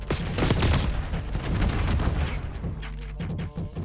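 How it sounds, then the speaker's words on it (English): A C4 charge detonates in Black Ops 6 amid a burst of rapid gunfire, heavy booms and crackling shots packed together loudly up close before the barrage thins out and fades. "Detonating C4."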